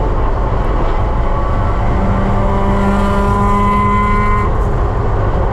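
A race car engine roars through a race at Lime Rock, close and loud, holding a steady, unbroken drone whose pitch climbs gradually, with no voices.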